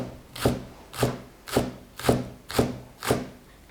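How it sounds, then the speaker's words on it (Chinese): A knife chops scallions into small pieces on a board, six evenly spaced crisp strokes at a steady rhythm, close and clear with no talking. "把小葱切成葱花"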